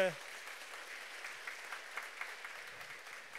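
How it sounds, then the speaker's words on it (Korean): A roundtable audience gives faint, steady clapping in encouragement of volunteer facilitators, heard at a distance with a brief voice at the very start. "퍼실리테이터 여러분들 힘내시라고 응원의 박수 먼저 드리고 가겠습니다"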